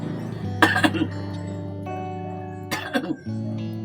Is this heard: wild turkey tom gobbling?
no